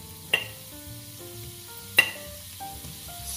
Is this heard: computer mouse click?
no